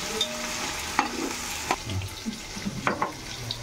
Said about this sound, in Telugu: ఈ వెజిటేబుల్స్ ఎంత బాగా ఫ్రై అయ్యి మిక్స్ అవుతే మనకి అంత ఎమ్మీగా మన వెజ్ బిర్యానీ అనేది ప్రిపేర్ అయిపోతుంది